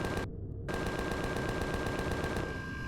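Gatling gun in Empyrion Galactic Survival firing a sustained, loud burst of rapid automatic fire with a brief gap in the high end early on, continuing steadily to the end.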